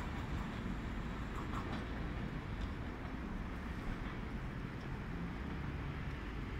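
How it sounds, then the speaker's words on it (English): A through train rushes past a station platform on track 1, producing a steady, broadband rumble and rattle of wagons at close range, fairly faint overall and without speech. "Treno in transito al binario 1, allontanarsi dalla linea gialla."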